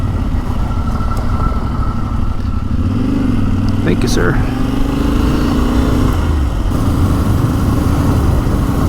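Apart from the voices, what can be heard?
Yamaha Tenere dual sport motorcycle riding on backcountry roads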